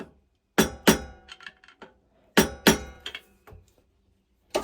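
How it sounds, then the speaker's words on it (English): A screwdriver taps a stuck water pump shaft in a shallow well pump system, giving sharp metallic clinks in paired strikes with lighter ringing taps between, then a final hit, all close and clear with no talk. "I can't get anything down there to the shaft except for a screwdriver. I'm just going to try hitting it easily a couple times."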